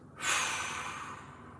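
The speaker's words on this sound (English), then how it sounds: "3 big breaths" One deep, slow breath during a mobility workout, taken in through the nose and let out through the mouth. A soft, close, airy rush swells quickly and then fades gradually, with no voice over it.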